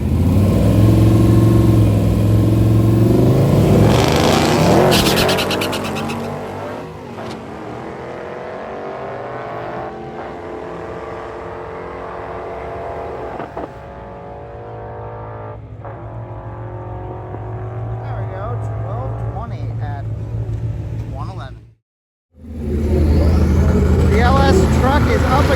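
An LS-powered mid-engine Toyota truck makes a drag racing pass, the V8 roaring hard at launch, howling through the gears, then fading as it runs away down the strip, with a brief cut before the loud engine returns.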